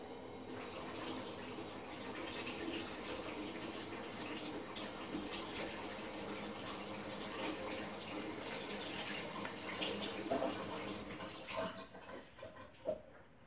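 Liquid pours into a small disposable container, filling it to about five ounces for a plaster handprint mold; a steady, close splashing trickle runs throughout, with a few louder knocks near the end.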